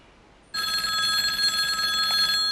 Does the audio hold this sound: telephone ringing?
yes